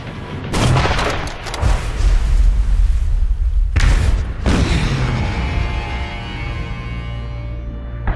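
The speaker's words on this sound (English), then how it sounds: "We hear the booming of the guns." Naval guns of a sea battle off Guadalcanal boom in heavy, rolling blasts with sharp broadband cracks around one, four and four and a half seconds, each leaving a long rumbling tail of distant gunfire and echo.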